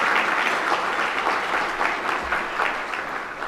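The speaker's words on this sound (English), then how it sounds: "let's give them a round of applause if we could" An audience in a conference hall applauds steadily, dense clapping filling the room at a constant level with no voices over it.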